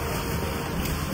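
Steady rain with hail, driven by cold wind, falling outside a shelter high in the Himalayas; a continuous even hiss with no voices.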